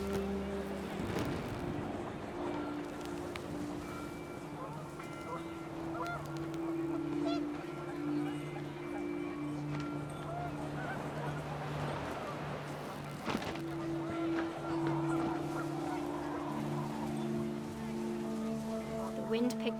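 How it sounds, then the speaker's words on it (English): Geese honk in a panicked flock in the video game What Remains of Edith Finch, repeated calls over a steady low drone and wind-like background, fairly quiet, with a narrator talking over much of it. "panicked geese appeared and quickly went"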